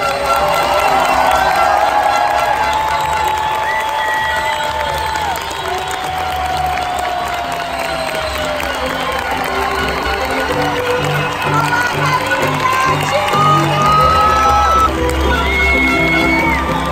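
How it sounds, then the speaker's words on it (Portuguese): A large crowd at a dentistry graduation ceremony applauds steadily, a dense continuous wash of clapping with scattered cheers and whoops rising through it. "Pedimos agora uma salva de palmas."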